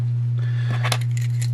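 Keys from a high-security lock drop onto a hard surface, a brief cluster of bright metallic clinks over a steady low electrical hum.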